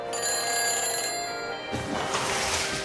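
Electronic telephone ring from a phone helmet in the Back to the Future video game, a steady trilling bell tone heard clearly alone for over a second before cutting off into a softer background hiss.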